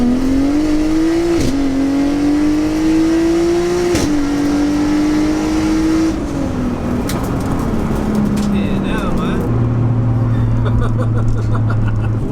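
Tuned 900bhp 3.2-litre turbo Audi A3 sleeper accelerating hard on high boost, a loud sustained engine drone rising in pitch through gear changes, with wind and road roar building and people talking over it.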